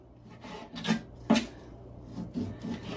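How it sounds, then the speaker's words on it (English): A knife slicing a raw pheasant breast into thin strips on a board in a home kitchen, giving soft, close rasping cuts in a few uneven strokes, faint and without talk. "Now we're going to take this pheasant breast and we're going to slice it into strips."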